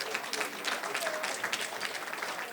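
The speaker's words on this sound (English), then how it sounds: "Let's give Richard Wilson a round of applause for his moderation" A room full of people claps steadily for the moderator at the close of a congressional candidate forum; the applause is dense, even and fairly soft, as if heard from a distance, with no break across its length.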